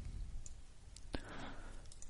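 A single sharp computer mouse click on a Yes button in a software dialog, one brief near tick amid quiet room noise with faint talk around it.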